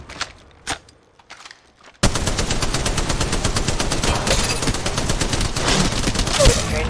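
Automatic gunfire in the Apex Legends Mobile video game bursts in suddenly after a quiet start, then rattles on as loud, dense, continuous shots with little pause, close and dominant.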